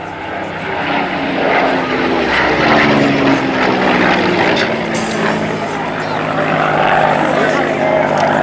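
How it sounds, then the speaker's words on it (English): A Hawker Hurricane Mark IIC propeller fighter of the Battle of Britain Memorial Flight flies past at an airshow, its engine drone loud and sustained with rising and falling pitch. "this is the Hawker Hurricane from the Battle of Britain Memorial Flight"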